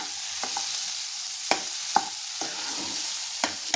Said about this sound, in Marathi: हे बघा, आपला मटार तेलावर छान परतला गेलाय